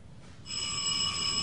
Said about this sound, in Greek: Σκάστε κι εσείς με το κουδούνι